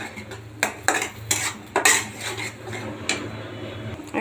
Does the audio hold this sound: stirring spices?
yes